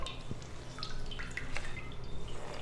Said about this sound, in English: Keep it between your palms and squeeze out the water.